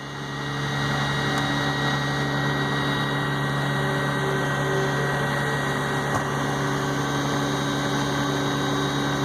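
Semi trucks with 10,000-gallon stainless tanks and boom kits run at a steady idle, a constant droning hum with a strong low tone and mechanical whine, close and unchanging, with no speech.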